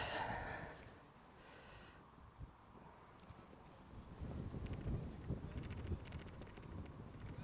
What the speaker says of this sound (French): Oh, le vent de dingue.